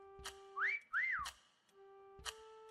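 A person whistles two quick rising-and-falling notes in a game, close and clear, between sharp clicks and a steady background tone.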